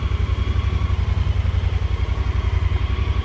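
A Pioneer utility vehicle's engine runs steadily in four-wheel drive with the rear differential locked, a loud, even, throbbing drone with a rhythmic low pulse and no pauses.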